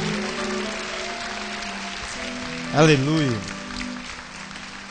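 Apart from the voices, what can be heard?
church congregation applauding Jesus loudly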